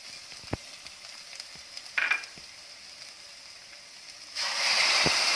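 Green chillies and tomato go into a pan of browned garlic and onion, with a soft, steady sizzle, a few sharp clinks from the utensil, and a louder burst of hissing near the end as the pan fries more vigorously.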